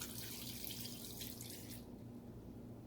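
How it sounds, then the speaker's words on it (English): Vinegar pours steadily into a pot with a soft splashing rush, then stops, leaving quiet background hum. "We got our 1 quart of vinegar. We'll pour that in there."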